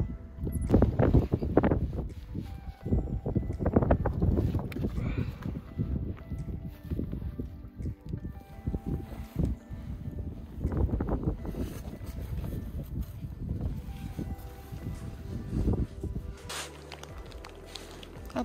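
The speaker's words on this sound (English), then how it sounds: "It's kind of windy in here" Gusty wind sweeps across a high-country mountain basin during a mule deer bow hunt, buffeting the microphone in repeated low, rumbling surges that swell and fade across the whole stretch, with no talking.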